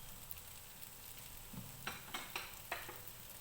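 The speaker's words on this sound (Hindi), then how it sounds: "स्पैगेटी डाल के इसको अच्छी तरह से मिक्स करेंगे।" Spaghetti tossed and mixed in a frying pan, with a low steady sizzle and a few soft scraping strokes of a utensil near the end, quiet and close with no talking.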